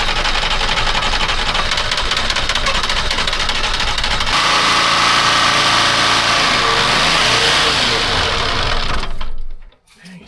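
A Detroit diesel swapped into a telehandler cranks and fires up into a loud, continuous clattering roar with a shift in pitch partway through as it revs, then cuts out abruptly at the end.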